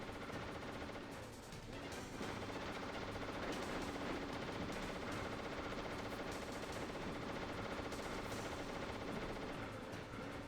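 Enemy gunfire in Metal Gear Solid on extreme difficulty, a dense, unbroken clatter of automatic shots running the whole time beneath a steady wash of game noise, with no talking.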